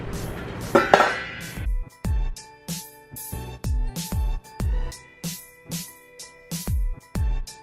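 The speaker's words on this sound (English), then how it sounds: "I'm going to cover that with a lid that does not fit it." A metal lid goes onto a pot of food that it does not fit, giving a quick run of loud clanks and rattles. Several clinking knocks follow at irregular intervals as the lid shifts against the rim. No voices are heard.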